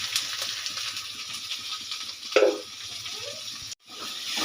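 Beans, onion and curry leaves sauté in hot oil with a steady close sizzle and hiss, a brief louder crackle as they are stirred, then a short cutoff.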